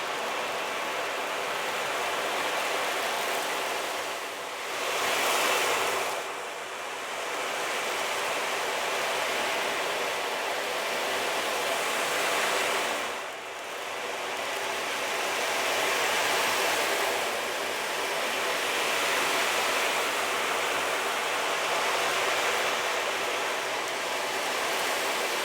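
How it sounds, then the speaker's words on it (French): An ocean drum played slowly for meditation, its rolling beads making a soft, continuous surf-like wash that swells and recedes in long waves, steady and fairly quiet with no voices. "à travers le tambour océan, où là, on l'utilise beaucoup dans la méditation"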